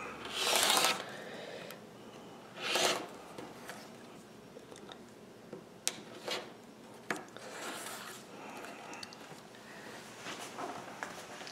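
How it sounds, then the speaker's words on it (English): Paper is cut into rectangles with a rotary paper trimmer in a series of close, quick rasping swipes separated by pauses, with quieter sliding and handling noises between cuts. "So I'm going to go ahead and cut this, clean cut 2 edges."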